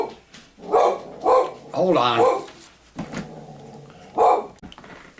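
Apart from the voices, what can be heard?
dog barking, riled up by the neighbor's dogs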